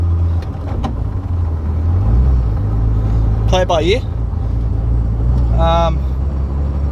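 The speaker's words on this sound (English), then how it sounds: "Now the car doesn't sound too happy" A Nissan Skyline R32 with its engine running rough after a breakdown on a test drive, a steady low rumble continuing throughout beneath close talking.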